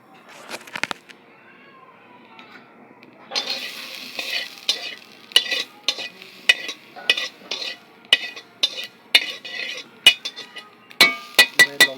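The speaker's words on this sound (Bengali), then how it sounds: "আগে একটু ভেজে নিতে হবে।" A ground spice paste fries in a pan with a low sizzle and a rapid run of sharp, rhythmic spatula scrapes and clatters. A cat seems to meow faintly near the start.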